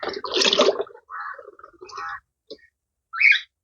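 Water is poured into a pot for planting a water lily in a home garden: a loud splashing burst, then several shorter pours with gaps between them and a final brief splash, heard close with no talk.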